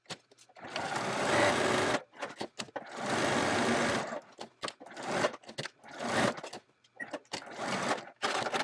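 Sewing machine stitching a seam around a Halloween trick-or-treat bag applique, running in rapid whirring bursts of about one to two seconds, then shorter stop-start runs with quiet pauses, close up.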